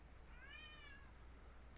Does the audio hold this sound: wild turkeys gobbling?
no